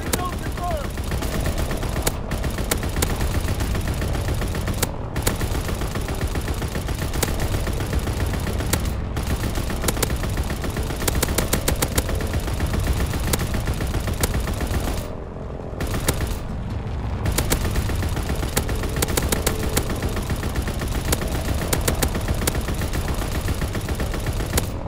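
Sustained machine-gun fire from a bomber's ball turret in Call of Duty: WWII, a loud, dense stream of rapid shots running almost continuously, with only a brief lull midway.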